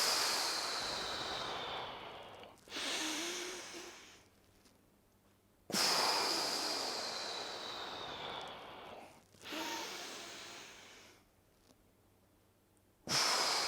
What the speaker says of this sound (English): Make sure you exhale, chin to chest,